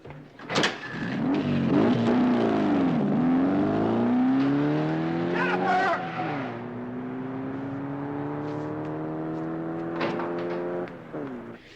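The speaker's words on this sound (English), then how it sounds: "just drove off with somebody in a white sports car" A white foreign sports car pulls away: a door thump, then the engine revs up through rising gear shifts and settles into a steady, fairly loud drone with a brief second thump near the end.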